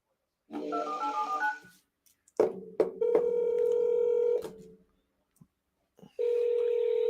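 A telephone redials a number: a quick run of dialing tones, a few clicks, then a steady held tone, silence, and the tone starting again, with no talking.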